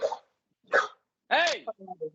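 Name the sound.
dog barking at a cat in the front yard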